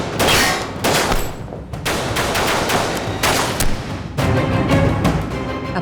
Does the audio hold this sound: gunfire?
yes